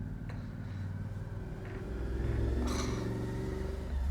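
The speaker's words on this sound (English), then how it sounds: "Wait for the motorbike idiot to go past." A motorbike passes on a nearby road, its engine rumbling low and rising to a louder, steady drone before easing slightly, with no talk over it.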